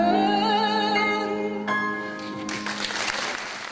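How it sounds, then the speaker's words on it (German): Long, sustained applause from a theatre audience at the close of a cabaret evening in a cultural hall, entering after a held musical chord and building into dense, continuous clapping. "am Schluss dieses Kabarettabends in der Kulturhalle Allerheiligen nicht enden wollender Applaus für Dolores Schmiedinger"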